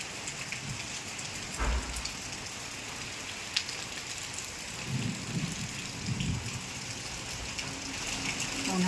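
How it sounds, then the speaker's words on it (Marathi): Heavy summer rain pours down steadily as a dense, even hiss with a few distant low thumps underneath, no voices present. "चांगलाच पाऊस लागून राहिलाय."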